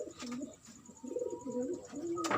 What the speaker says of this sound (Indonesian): Ini merpati lagi angram.